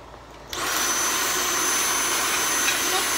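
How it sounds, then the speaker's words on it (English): A vacuum cleaner switches on with its nozzle pushed inside a shoe, jumping from quiet to a loud, steady whooshing roar with a high whine that holds without a break. "we're going to put the vacuum inside my shoe"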